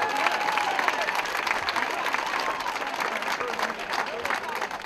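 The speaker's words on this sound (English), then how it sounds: "Let's give them a round of applause." Spectators at a dragon boat race applaud a racing team, with moderately quiet, continuous outdoor clapping and a few faint cheers mixed in for several seconds.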